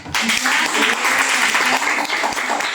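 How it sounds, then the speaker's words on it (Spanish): Audience at a Colombian women's citizens' union fair in Medellín claps steadily and loudly for nearly three seconds, a dense close wash of hands with no voices over it. "yo pido para ellas un aplauso"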